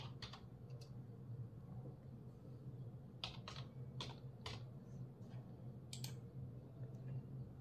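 A computer keyboard is tapped in short bursts of quick clicking keystrokes while a captcha is entered, faint and close over a steady low background hum.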